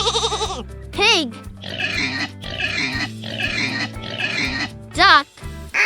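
A pig grunts and oinks in four rough, snorting bursts at close range, bracketed by short higher-pitched sounds at start and end.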